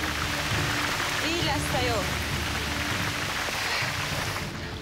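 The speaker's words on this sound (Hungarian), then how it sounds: "Isten verje meg ezt a rohadt esőt." Steady rain falls outdoors in Asia during a televised travel race, a constant broad hiss with people talking over it.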